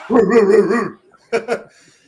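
A short run of excited barking-like yelps, then two sharp bursts after a pause; sounds like people imitating dogs barking, loud and close.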